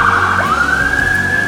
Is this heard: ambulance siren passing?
yes